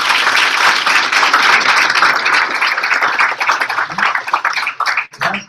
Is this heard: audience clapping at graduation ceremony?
yes